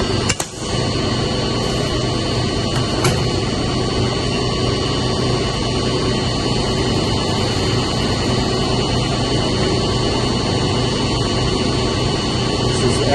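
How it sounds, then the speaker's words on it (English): A York building chiller pump runs with a loud, steady mechanical hum and whine, constant and close, with a brief knock near the start. "So this is the pump that is working."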